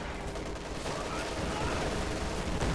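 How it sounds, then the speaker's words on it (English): Dense, continuous machine gun fire from several MG42 and MG34 guns in Company of Heroes 2, a steady rattling barrage of mixed bursts mid-battle with a voice faintly beneath. "Lots of machine gun fire there. 3 MGs."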